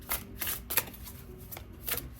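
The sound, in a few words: shuffling tarot cards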